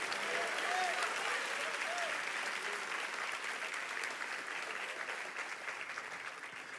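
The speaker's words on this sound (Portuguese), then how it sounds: "Você vai aplaudir, aplauda glorificando Deus." A church congregation breaks into sustained applause to glorify God, a dense, steady wash of clapping from many hands that fills the room and slowly tapers slightly, with faint voices mixed in.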